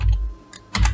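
Computer keyboard typing while entering a spreadsheet function name in Excel, a short burst of close keystrokes at the start, a pause, then another quick cluster at the end.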